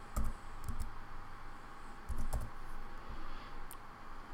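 Computer keyboard typing while axis labels and a graph title are entered in an Excel spreadsheet: quiet close clicks in a few short bursts of keystrokes, separated by pauses, over a faint steady room hum, with no talking.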